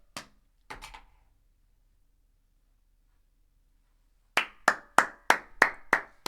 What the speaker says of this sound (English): Everyone round of applause. Everyone clap.